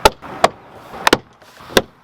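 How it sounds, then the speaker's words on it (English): Plastic trim clips are pressed into a BMW F30 door as the panel is refitted: about five sharp, close snapping pops at uneven intervals, with quiet handling noise between them. "you just very carefully pop these top clips in, and then just go along and pop everything else in."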